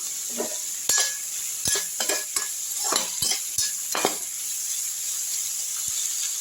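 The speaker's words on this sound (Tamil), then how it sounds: "நல்லா வதக்கிடலாம்" Onions sizzle in a hot pan under a constant frying hiss, with repeated scraping and clinks from a spoon stirring them.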